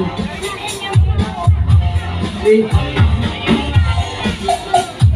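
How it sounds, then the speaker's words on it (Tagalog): At a rice handout in Baseco, a dense crowd shouts and cheers loudly in repeated swelling bursts, with voices calling out close by amid the general babble. "Malakas na hiyawan, nakataas mga kamay si SB, kinakawayan"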